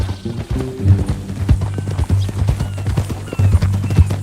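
Horse hooves clip-clopping in Red Dead Redemption 2, a steady rhythmic gait of distinct hoof strikes on hard ground, close and clear over a low steady hum, with no talking.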